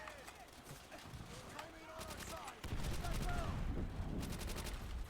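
Gunfire in the war shooter Call of Duty: World at War, with rapid bursts of shots that grow louder and denser in the second half, mixed with game background noise.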